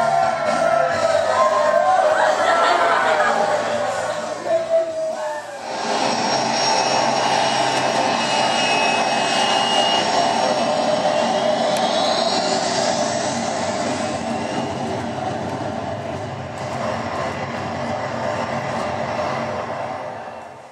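Jet airliner engines during flight in a movie scene, a continuous loud cabin roar with a broad steady rush and a rising whine partway through, no voices standing out.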